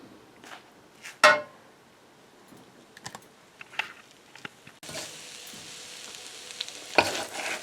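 Egg noodles with seafood being stirred in a pan at home, with scattered scrapes and clatters of the utensil against the pan and a steady sizzle that rises in the second half; no one speaks.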